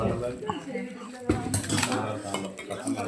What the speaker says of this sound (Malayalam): അതിങ്ങനെ ഇളക്കി ഇളക്കി ഇളക്കി